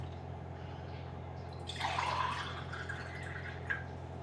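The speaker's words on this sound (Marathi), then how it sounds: "4 ग्लासने मोजून घेऊ आपण पाणी." Water is poured into a vessel holding bajra (pearl millet) flour with a little oil and salt for dough, a short splashing fill in the middle against a quiet room hum.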